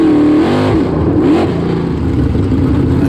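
A 900-horsepower All-Pro race car roars at the Gas City track, its engine revving up and down loudly and up close, then settling into a sustained high drone.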